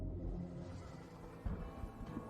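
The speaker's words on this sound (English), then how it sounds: "Oh, that sounds like a big storm coming." Low rumble of an approaching storm in a video game trailer, a steady deep roar with a brief swell partway through, moderately quiet and alone.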